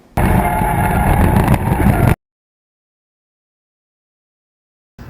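A loud V8 drift car engine roars steadily for about two seconds close to the microphone, then cuts off abruptly into silence.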